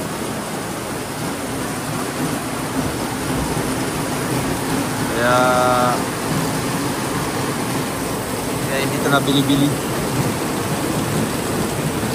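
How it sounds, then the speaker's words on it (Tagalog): Steady, dense heavy rain hisses throughout near a house terrace, with a person talking over it and brief higher tones rising out of the noise. "Lakas ng ulan."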